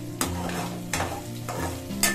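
Eggs fry in a pan for a village country-chicken curry, a loud steady sizzle broken by three scraping stirs at regular intervals, with no talking.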